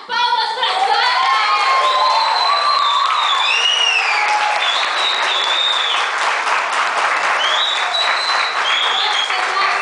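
Loud, sustained applause and cheering from a theatre audience at a Mother's Day school play, with whoops and children's shouts mixed into steady clapping throughout.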